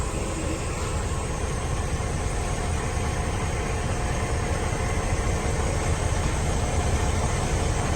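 A Freightliner 126 truck's diesel engine running at a steady idle, a dense, constant low rumble throughout with no pauses, loud and close.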